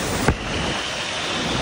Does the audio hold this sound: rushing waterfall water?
yes